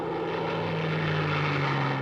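Veteran propeller aircraft in flight over Normandy at a D-Day 70th anniversary event, a steady droning engine with a strong low hum held at constant loudness for the full two seconds, no voices.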